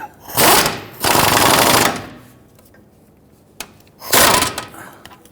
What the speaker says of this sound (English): Now I'm going to run this down with my impact gun